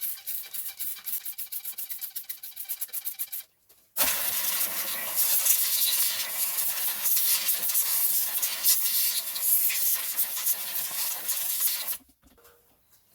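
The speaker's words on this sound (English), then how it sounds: "Rinse with brake cleaner." Brake cleaner spraying onto car parts of a 1.6 HDi diesel engine: a steady, loud aerosol hiss lasting about eight seconds, preceded by a brief rubbing or scrubbing noise and ending abruptly.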